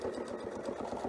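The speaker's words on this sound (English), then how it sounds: "And now I can just start sewing to the crosshair line." A sewing machine stitches quilt fabric along a marked crosshair line, giving a quiet, steady, rapid mechanical whirring with regular stitch pulses.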